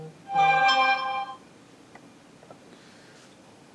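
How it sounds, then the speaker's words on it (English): A mobile phone rings with a bright, tonal electronic ringtone burst lasting about a second, loud and close, followed by quiet room tone with a few faint ticks. "Why does my phone always go off as I'm recording?"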